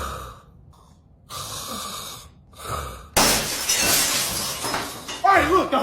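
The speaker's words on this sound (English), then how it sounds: "Did you just break through my window?" Window glass shatters in a sudden loud crash partway through, after quieter stretches of heavy snoring breaths, and crackling debris trails off afterward.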